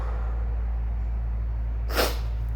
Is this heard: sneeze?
yes